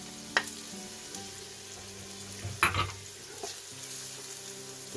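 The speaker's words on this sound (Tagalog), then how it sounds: "Lagyan na natin ang ating luya o ginger." Ginger sautéing with softened onions in a pan for beef pares, a steady close sizzle and fry with occasional scrapes and clinks of a stirring utensil.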